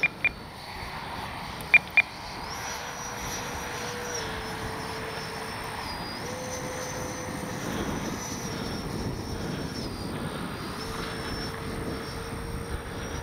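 A Freewing 90mm F4 Phantom II RC jet flies on its maiden flight, its electric ducted fan whining steadily at a distance while a few sharp beeps cut in near the start.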